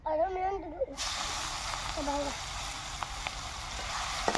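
Chopped onions sizzle steadily in a hot pan while a Bengali rupchanda fish dish is cooked. The frying starts loud and constant after a brief voice at the start, and more speech cuts in faintly partway through.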